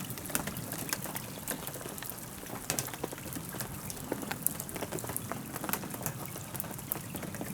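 Heavy November rain falls at Rainbow Lake, a dense, steady patter of drops drumming on nearby surfaces, close and continuous with no voices.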